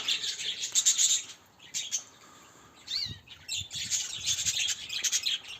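Finches, parrots and budgies in a walk-in aviary cage in early winter chirp and squawk in busy overlapping bursts, with a brief lull and close calls, no talk over them.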